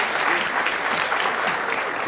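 Audience applause, a brief burst of dense, even clapping from a crowd, loud and sustained without pause.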